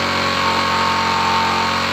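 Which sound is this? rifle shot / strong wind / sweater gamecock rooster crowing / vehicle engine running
vehicle engine running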